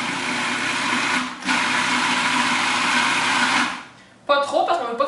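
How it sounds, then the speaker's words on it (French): A food processor blending chickpeas for hummus whirs loudly and steadily. It stops briefly, starts again, then cuts out, and a voice talks as it stops. "Quand le robot n'arrive plus à mélanger les pois chiches, j'ajoute de l'eau"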